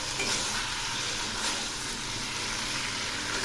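Pumpkin pieces frying in oil for a sweet pumpkin curry give a steady, loud, close hiss of sizzling throughout, with no talking.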